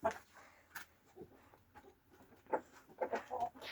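Several chickens and roosters cluck and squawk in short bursts nearby, with scattered calls across the clip and faint background noise.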